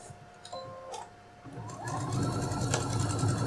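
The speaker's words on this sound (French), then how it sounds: "je vais faire une petite couture de maintien" A sewing machine stitches a 5 mm basting seam on denim for a phone case, with a few short mechanical bursts that build into a steady, rising run of stitching close by.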